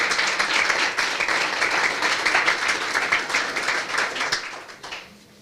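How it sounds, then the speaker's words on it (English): Applause from the crowd at an Ohio awards event, a dense steady wash of many hands clapping that holds for about five seconds, then thins and fades out at the end. "Round of applause, everyone."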